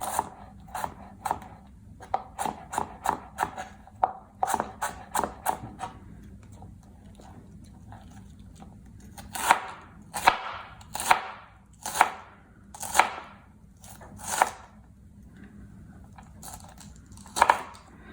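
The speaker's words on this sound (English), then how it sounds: "try to get it as chopped as I can here. So I'm doing that now." Vegetables for a spicy green coleslaw chopped by hand with a knife on a board, giving sharp, close taps in quick bursts with short pauses between runs.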